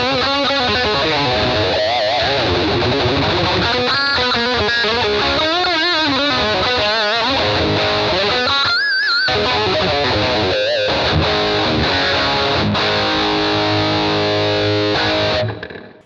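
Distorted electric guitar played through a Boss GT-1000 ducking reverb, a continuous loud stream of driven notes and chords whose reverb wash swells back in as the playing eases, ending on a sustained ringing chord with no talking.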